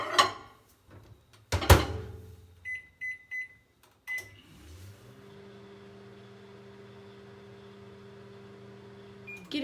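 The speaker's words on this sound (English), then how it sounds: "Take your jug and put it in the microwave for 20 to 30 seconds." A microwave oven heating a glass jug of golden syrup mixture: first door clunks and handling, then a short run of beeps and the door shutting, followed by a steady, close electric hum that continues to the end.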